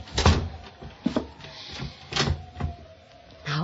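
Closet door being shut as a radio drama sound effect, a series of soft wooden knocks, creaks and latch clicks close by, ending in a muffled thud, with no voices.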